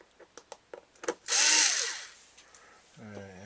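A handheld power drill whirs in one short, loud burst, backing screws out of the bottom of a Schumacher DSR ProSeries jump box battery case, preceded by a quick run of small clicks and taps and followed by a brief spoken word.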